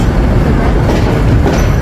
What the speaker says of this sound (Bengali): বন্ধুরা, চলছে ট্রেন, জগ ট্রেন চলেছে